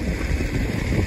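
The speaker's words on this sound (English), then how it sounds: "A little windy today, hopefully you can hear me." Wind gusting across an open farm field at corn planting time, a brief, steady, close broadband rumble buffeting the microphone.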